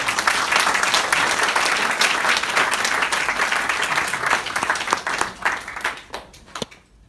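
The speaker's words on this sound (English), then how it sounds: "A big round of applause for all of them." Audience applause after a group of musical performers, a dense, full round of clapping that holds steady and then thins out and dies away at the end.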